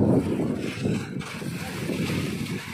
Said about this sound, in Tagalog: Ito po yung makina.